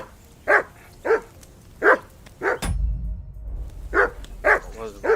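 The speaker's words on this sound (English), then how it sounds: "Henry, call that dog to heel" A dog in the video game Kingdom Come: Deliverance 2 barks in a steady series, about seven sharp, fairly close barks with a brief low rumble between them.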